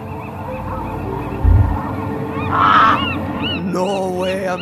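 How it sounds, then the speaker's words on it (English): A scary bird in the video game The Journey Down lets out a loud goose-like honk, a single squawking call standing out over a low game soundscape, followed by rising tonal effects. "Man, that's one scary bird."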